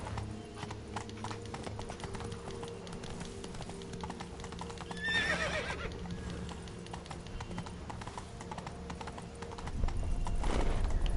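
Roach, the horse in The Witcher 3, gallops with rapid continuous hoofbeats over game ambience, a whinny rising midway and heavier hoof thuds toward the end, while a person talks intermittently.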